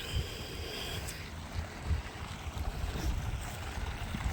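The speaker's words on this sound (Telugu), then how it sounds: "3 4 5 6 పైపుల నుంచి నీళ్లు పోతున్నాయి ఒక మోటార్తోనే" A motor pumps irrigation water out through several large pipes onto a grass field grown as camel fodder, giving a steady low rumble with a broad rushing wash of flowing water and no voices.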